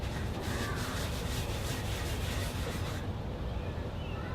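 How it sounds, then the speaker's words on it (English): Furniture wax is rubbed in circles over chalk-painted wood, giving a steady, close, soft rubbing and brushing noise with faint rhythmic swishes that stops partway through. "You just rub it on in circles like this"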